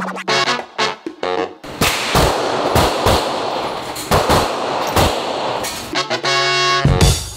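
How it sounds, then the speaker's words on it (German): Loud gunshots crack in rapid, irregular bursts at a shooting range, sharp close reports overlapping with others, some heavy booms among them, filling the scene with little pause. "Ey, irgendwer ballert mit Bazooka gefühlt hier."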